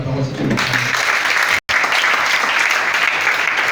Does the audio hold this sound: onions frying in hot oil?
no